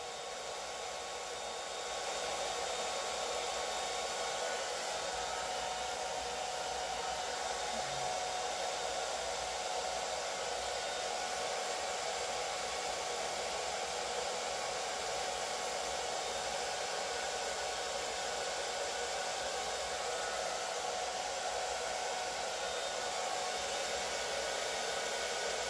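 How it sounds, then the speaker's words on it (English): A hair dryer runs continuously at close range, a loud, even whooshing drone that starts after a short moment and holds steady to the end. "I'm sorry I didn't shut off the dryer"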